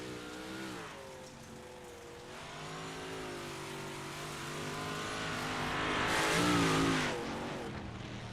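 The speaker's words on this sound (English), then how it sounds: "as we've now got Trevor Royer on the track for his qualifying run." A big block modified race car on a qualifying run in a NARC race, its engine revving and shifting through steady laps, swelling louder as it nears and then fading away.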